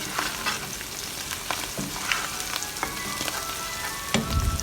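Mushrooms seasoned with salt and black pepper fry in a pan, a close, continuous sizzle broken by scraping stirs and a heavier clatter near the end, with no talking.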